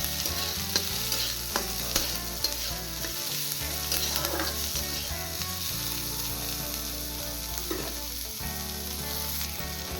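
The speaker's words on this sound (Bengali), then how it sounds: "এবার আমি দিয়ে দেব কুচিয়ে রাখা পেঁয়াজ আমি আঁচটা কমিয়ে দিয়েছি পেঁয়াজটা কিন্তু আমি পুরো ফ্রাই করব না" Chopped onion sizzles in a pan over lowered heat while fish roe is being cooked, a steady close frying hiss with occasional stirring scrapes and a low hum underneath.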